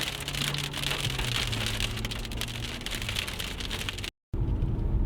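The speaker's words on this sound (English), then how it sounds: "we have a pretty good hailstorm coming down" Hail pelts down during a storm at about 2,000 feet in Alpine, California, a dense, loud, continuous rattling hiss on surfaces close by, with a low engine hum underneath.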